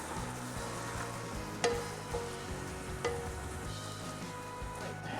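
Holy Trinity vegetables frying and cooking down in a pot for crawfish étouffée: a steady, even sizzle holds throughout, with a few sharp clicks of a utensil against the pot and no talk.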